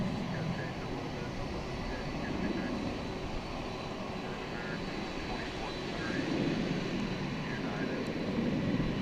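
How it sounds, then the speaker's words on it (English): An American Airlines Airbus A321 departs DFW at night, its steady, broad jet roar holding at a moderate distance for the whole stretch, swelling slightly toward the end. "It's an Airbus A321 going to Portland, Oregon."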